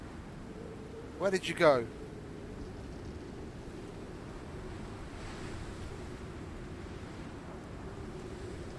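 A storm in the survival game Voyager: steady wind and surf-like roar runs throughout, with a brief burst of a voice speaking near the start.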